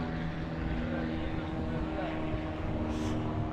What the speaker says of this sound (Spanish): Pasa una avioneta por aquí arriba.